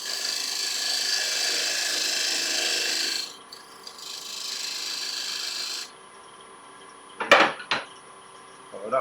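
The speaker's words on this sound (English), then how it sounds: "So parting tool." A parting tool cutting into spinning applewood on a wood lathe, a steady hissing, rasping shave that stops, resumes briefly, then gives way to a few sharp knocks, close and loud.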